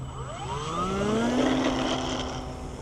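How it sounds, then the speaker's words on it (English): An E-flite Apprentice S electric RC airplane at full throttle on takeoff, its motor whine rising steadily in pitch and sliding as it climbs away, continuous and moderately loud over outdoor background noise. "So that was a full throttle takeoff"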